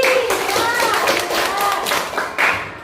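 Classroom students clapping their hands in a lesson, a short scattered round of claps mixed with a teacher's and children's voices talking over it.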